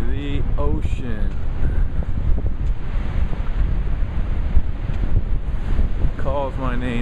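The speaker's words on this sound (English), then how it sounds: "This is the ocean." Wind buffeting the microphone with ocean surf rolling in beside a seaside boardwalk after heavy rain, a steady broad roar throughout, with a voice talking briefly at the start and again near the end.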